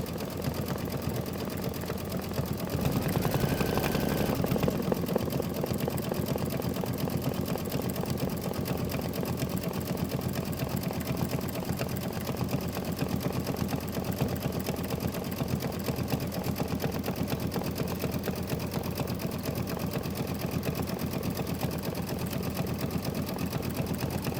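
An embroidery machine stitches out a grass fill, a fast steady mechanical whir of needle strokes running evenly throughout, with a brief louder burst near the start, close and moderately quiet, no talking.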